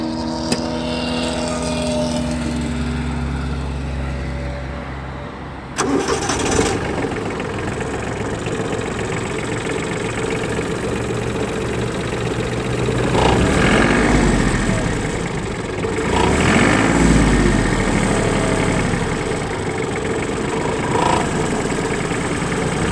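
The diesel engine of a Hinomoto N179 Japanese mini tractor cranks and catches, then settles into a steady low rumbling idle with a few brief surges in revs, close by.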